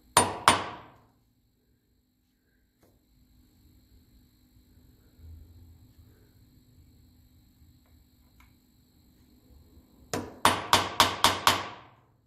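A hammer strikes a punch to mark a part of a 1954 Ferguson 20 TEF diesel tractor. Two sharp metallic blows come first, then a long quiet pause, then a quick rhythmic burst of five or six close, loud strikes.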